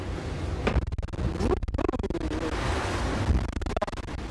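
Strong wind blows at sea aboard a racing sailboat, a steady roaring rush with buffeting gusts and hull noise as the boat moves, loud and close to the microphone, with no talking.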